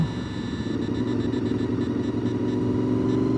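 A Honda car drives past on the Blue Ridge Parkway near Pisgah Inn, a steady mid-pitched engine rumble and road noise holding loud and close throughout, with no talking.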